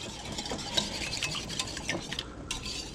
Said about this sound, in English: So we're going to mix these together.